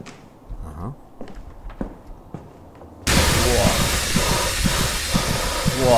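A radiator heater in the horror game Project Nightmares, with soft thuds and clicks for three seconds before a loud, steady steam hiss cuts in and carries on to the end.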